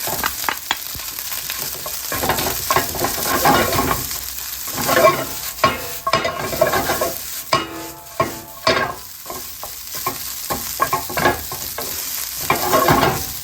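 Egg fries in a hot pan with pork belly for Japanese char shu fried rice, a constant loud sizzle broken by repeated scraping and stirring strokes.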